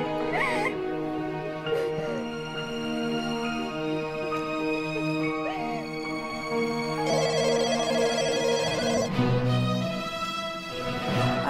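A house telephone rings with a bright, repeating electronic tone over steady background, the tone persisting through the whole stretch and growing slightly denser near the end.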